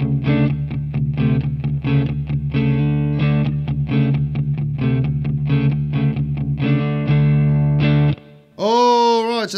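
A Fender Player Series Telecaster in drop D plays a clean tone through a Boss Katana amp: a rhythmic riff of ringing chords and single notes, close and steady, followed by a brief voice at the end.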